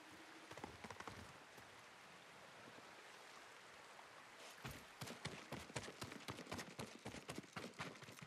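Horse hooves clip-clop in Ghost of Tsushima, faint at first, then a clear, loud run of rhythmic beats over the back half.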